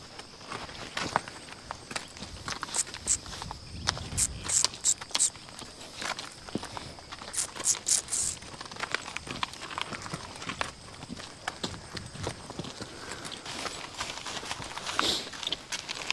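Duke, a draft horse, walks while being line driven on a farm, his hooves clip-clopping in an irregular steady rhythm at close range, with occasional louder strikes and faint background noise.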